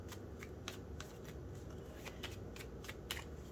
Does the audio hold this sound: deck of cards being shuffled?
yes